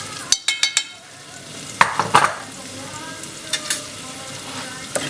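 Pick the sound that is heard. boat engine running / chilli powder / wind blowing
chilli powder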